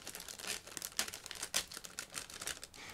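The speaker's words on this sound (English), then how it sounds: "as you can hear, I'm opening the plastic bag. It's a sealed plastic bag" A sealed plastic bag from a 1/35 Miniart K-51 radio truck model kit being torn open, close crinkling and crackling in quick irregular bursts, heard alone.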